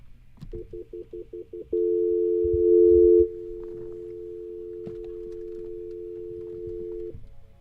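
Telephone line tones on a radio call-in show: a quick run of short pulsed beeps, then a steady loud tone that drops to a quieter continuous tone for several seconds, with faint background noises.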